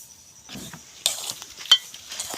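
Semolina stirred and dry-roasted in a heated pan, a short run of soft scrapes and rustling taps from a spoon, fairly close and quiet, with one sharper clink.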